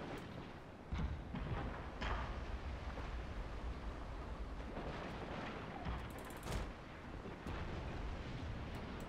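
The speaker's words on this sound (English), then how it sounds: "Oh, the cannon's back." Battlefield cannon fire in Shogun 2: Total War, a sustained barrage of heavy booms and thumps with sharp reports near 1, 2 and 6 seconds over continuous rumbling battle noise, no talking.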